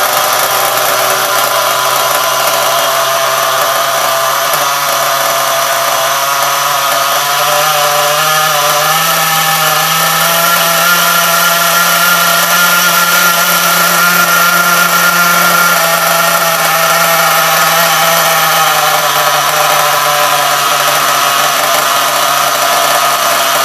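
A small nitro engine in an HPI Savage RC car, fitted with a Losi 427, screams at high revs, a loud buzzing whine held continuously, its pitch wavering slightly up and down as it runs.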